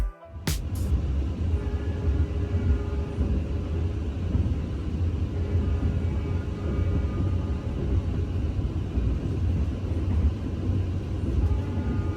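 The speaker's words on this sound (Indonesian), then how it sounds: "kereta api Gajayana baru saja memasuki stasiun Blitar" Gajayana train pulling into Blitar station, a deep continuous rumble of rolling carriages that holds steady and close for the whole stretch, after a brief sharp click at the start.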